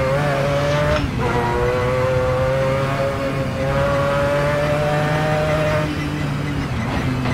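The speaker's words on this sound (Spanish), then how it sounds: "Este coche viene ya directamente en Assetto Corsa." A race car engine screams at high revs around the Nordschleife in the video game Assetto Corsa, its loud, sustained whine rising and falling with shifts, alone and close.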